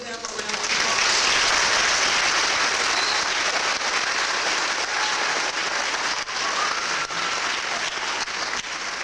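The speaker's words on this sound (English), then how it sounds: "can you give them a round of applause?" A crowd at a children's musical breaks into steady, dense applause that swells quickly and continues evenly for several seconds.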